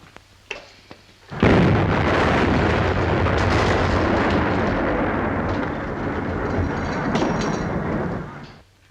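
A cannon backfires: a sudden loud blast erupts into a long roaring rumble that lasts several seconds before cutting off, preceded by a few small pops.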